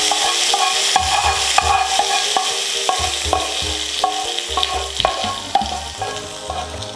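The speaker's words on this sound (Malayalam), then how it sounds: "നമുക്ക് അതിനകത്തോട്ട് കടുക് വറുത്തത് ഒഴിച്ച് കൊടുക്കാം." A fried mustard seed tempering hisses and spatters as it is poured into buttermilk curry, loud sizzling broken by repeated stirring knocks in an even rhythm.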